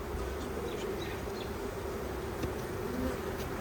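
Honey bees from a newly installed package buzz in a dense, continuous drone, steady and close, with no voices.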